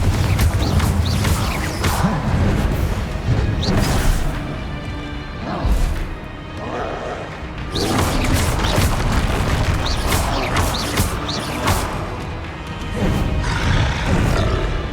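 Repeated fiery Confringo spell blasts in the game Hogwarts Legacy, heavy booming explosions with crashing impacts recurring every couple of seconds over continuous loud battle noise and rumble, with no talking.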